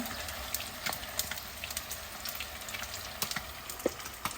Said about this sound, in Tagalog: Antayin na natin itong pinirito. Yung tilapia natin